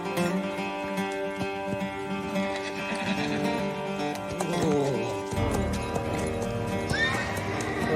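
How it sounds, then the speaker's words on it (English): Horse hooves clip-clop in a steady rhythm, close and clear, with a horse neighing and whinnying among them and no talk over the sound. "An experienced rider, unfamiliar horse."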